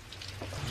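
Rain falling outdoors, a steady close hiss of drops pattering on surfaces for under a second, with no voices.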